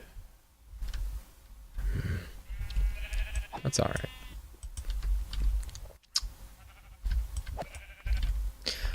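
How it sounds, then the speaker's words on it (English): Sheep bleat in the game Minecraft, playing in hardcore mode, with a couple of wavering calls in the middle under a voice, along with keyboard and mouse clicks. "And there's so many sheep here."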